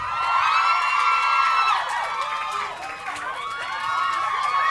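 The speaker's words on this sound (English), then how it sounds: "Keep cheering and whooping and so on because it makes them feel welcome" A television studio audience cheers, whoops and shouts continuously as guests arrive for a talk-show interview, a loud, sustained crowd roar with high excited yells rising and falling throughout.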